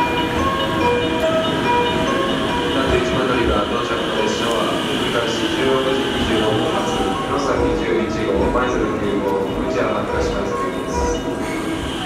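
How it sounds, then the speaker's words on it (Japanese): A limited express train arrives at a Kyoto Station platform, a steady rolling rumble and mechanical hum filling the station while a platform announcement plays over it. "31番乗り場、列車が参ります。"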